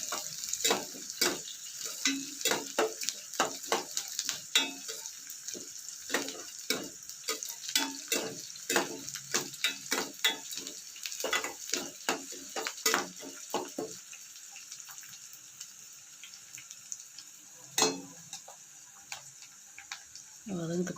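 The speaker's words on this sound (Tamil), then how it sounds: "வெங்காயம் கொஞ்சம் வதங்கட்டும்." Onions sautéing in a pan with dried red chillies and curry leaves, giving a soft crackling sizzle with stirring clicks; the sizzle grows quieter in the second half.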